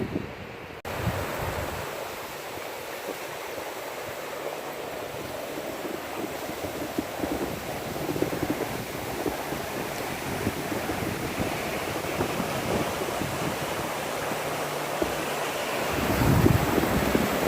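Provo River flowing near Bridal Veil Falls, a continuous rushing wash of water with gusty wind buffeting the microphone, steady at moderate loudness and swelling slightly toward the end.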